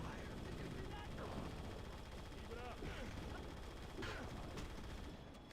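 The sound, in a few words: minigun firing in a video game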